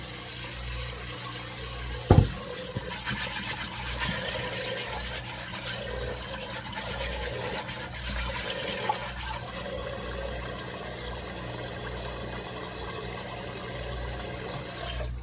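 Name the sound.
water running from a tap while rinsing beans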